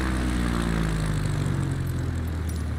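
A CubCrafters propeller plane taxis in Microsoft Flight Simulator 2020, its engine droning steadily and loudly with a low propeller hum throughout, no voices.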